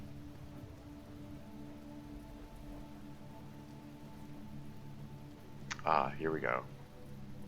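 Steady rain falls across a dismal outdoor area in the video game The Talos Principle, a constant hiss running through the whole stretch while someone talks briefly near the end.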